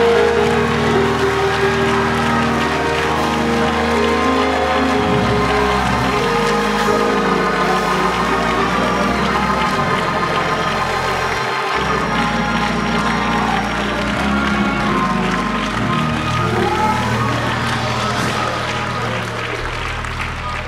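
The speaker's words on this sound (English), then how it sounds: "give God praise and clap and shout" A church congregation claps and shouts in praise, a continuous loud wash of applause and voices under organ-like music, held steady throughout.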